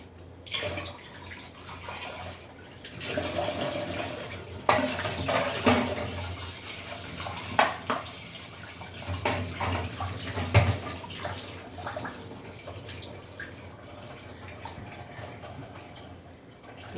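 Tap water runs into a kitchen sink while a teapot is washed, steady splashing with clinks and knocks of the pot, close and moderately loud, no talking.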